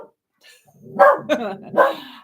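A dog barks in a few sharp, loud bursts close by inside a home, the outbursts coming in quick succession after a quiet moment.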